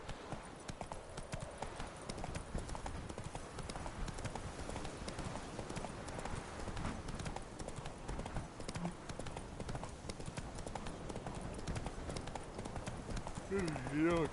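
Roach, the horse in The Witcher 3, trots with a steady, continuous clip-clop of hooves under a dense game soundscape, and a voice speaks over it.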